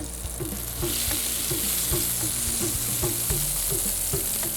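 Food roasts in a pan on a gas stove with a steady, loud sizzle and frying hiss, while a spoon stirs and scrapes it in regular clicks and taps. No one talks.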